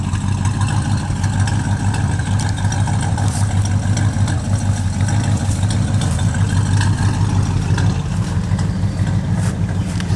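A 1966 Pontiac Catalina with a 389 V8 idles after a cold start, left sitting for six years, giving a steady loud low rumble that stumbles slightly now and then, with no talking.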